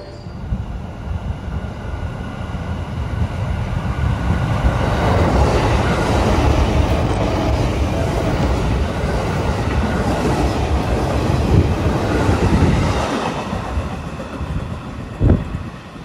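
The Parahyangan passenger train arrives, a loud rising rumble of wheels with rhythmic clickety-clack that swells, holds, then eases, with wind buffeting the microphone.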